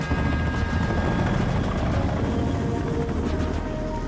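A video game helicopter flies past on an aerial recon run carrying troops, a loud, steady rotor roar with a dense rumble that holds throughout with no voices.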